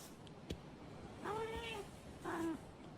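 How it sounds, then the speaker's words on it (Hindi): A cat meows twice in a meme, two clear mid-pitched calls about a second apart, each with a falling tail, over a faint steady background hiss. "मेरी फेवरेट बिल्ली है"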